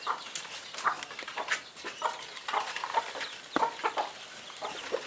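A flock of local Kienyeji chickens in Kenya cluck and chatter while feeding. Many short overlapping clucks come close by in an irregular busy rhythm, with no talking.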